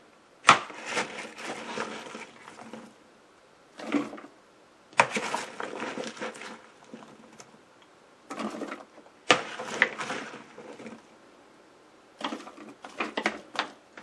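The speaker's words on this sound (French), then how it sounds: "Nous allons commencer à mixer nos marinades" A food processor blends crushed spices for a red marinade in several separate bursts, each a few seconds long with short silent pauses between, close and moderately loud.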